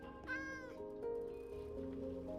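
A cat in the Minecraft video game meows a few times, clear drawn-out mews close by with quiet game ambience underneath.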